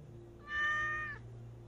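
A pet cat lets out one clear, close meow lasting under a second, with a steady low hum in the background.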